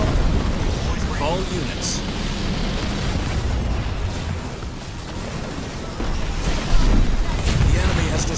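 Artillery shells explode in the Halo Wars 2 video game, a continuous loud barrage of booms and rumbling blasts with a brief radio voice over the battle.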